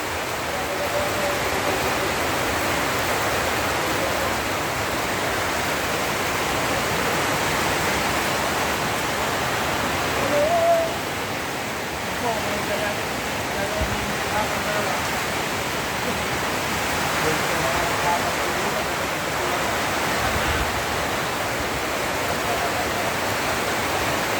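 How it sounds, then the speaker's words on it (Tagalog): Heavy rain pouring down over a rural field in the Philippines, a loud unbroken hiss that fills everything with no pauses, steady throughout. "Grabe ang ulan mga kapitik."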